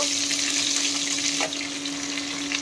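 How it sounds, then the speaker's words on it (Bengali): Vegetables sizzle in a hot pan while being fried for restaurant-style fried rice: a steady, dense hiss of frying that holds throughout, with a faint steady hum underneath and no talking. "এখন এর মধ্যে আমি সবজিগুলো দিয়ে দিচ্ছি, আর সবজিগুলো ভালো করে ভেজে নেব।"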